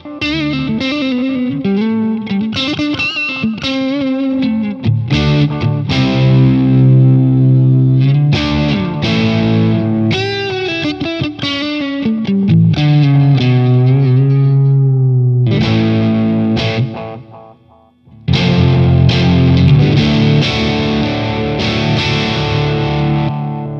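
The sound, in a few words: electric guitar through Gokko GK-60 Salem Boost pedal with delay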